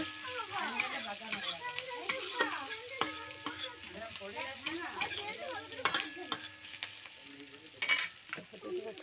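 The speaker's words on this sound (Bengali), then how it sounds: "একটু ভেজে নেবো পেঁয়াজ কুচিটা দিয়ে" Chopped onion fries in hot oil for a mixed vegetable curry, a steady crackling sizzle broken by repeated scraping and clinking of a spatula stirring the pan.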